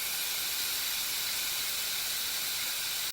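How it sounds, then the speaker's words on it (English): Steam room with boiling hot steam hissing: a constant, loud, broadband hiss with no pauses or voices, cutting off abruptly at the end. "taking a seat in a small room filling with boiling hot steam"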